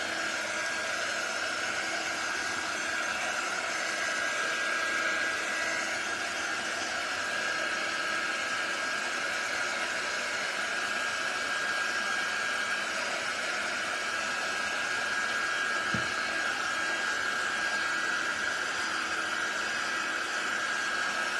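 A dryer blows air steadily over a craft piece for a bike-themed flower market project, a loud, even whooshing drone with a faint whine, unbroken from start to finish.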